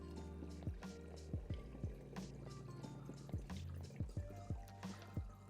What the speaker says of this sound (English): Now I'm gonna just take this cold water and pour it right in.